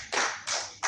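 A few hand claps for Jesus during a Swahili church sermon on marriage: three short bursts, close and fairly loud, with no talk over them.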